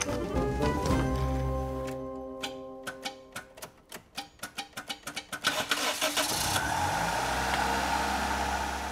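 1990 Toyota Sera engine starting after rapid cranking, then catching and running at a steady idle, close and moderately loud.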